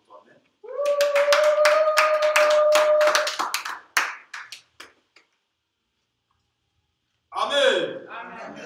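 A church congregation breaks into loud applause and cheering that lasts a few seconds, with voices over the clapping, then fades to silence before a short spoken outburst.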